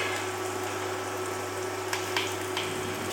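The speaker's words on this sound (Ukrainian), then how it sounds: "Сковорідка сипить." Vegetables sizzle in heated oil in a frying pan, a steady close crackling hiss with a low hum beneath and a few sharper pops near the end.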